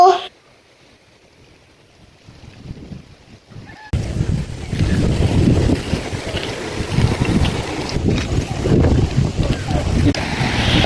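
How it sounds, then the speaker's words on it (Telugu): Rainwater from a single day's downpour after Cyclone Fengal rushes through a flooded natural farm, a steady broadband wash that starts faint and turns loud and continuous after a few seconds, with a brief bit of talk early on. "వన్ డే రెయిన్కి ఎంత వాటర్ వెళ్తుందో చూడండి"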